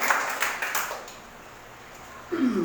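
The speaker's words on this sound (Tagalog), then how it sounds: "Palakpak po sa Diyos." A church congregation at Sunday worship claps for God in a brief burst of applause that fades to near silence within a second, after which a voice starts up.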